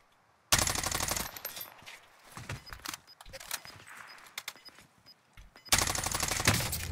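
Call of Duty Warzone gunfire: loud, sustained automatic bursts open and close the passage, with sharper scattered shots and rattling action between them in a busy battle soundscape.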